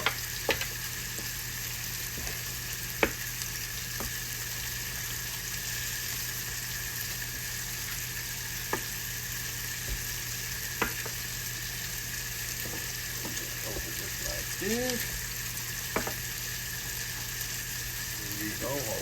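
Sausage sizzles steadily in a pan for a country breakfast, a constant moderate crackle with occasional sharp pops and small clinks of a utensil, continuing alone without talk.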